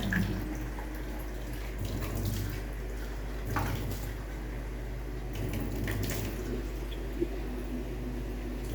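Steady running water from a kitchen sink tap, a continuous broadband wash with faint clinks and splashes now and then, no talking.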